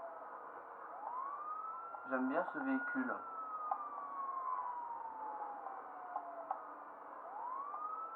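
A police SUV siren in the video game GTA 5 wails with a rising and falling tone through the whole stretch, steady and moderately loud, with someone talking briefly over it.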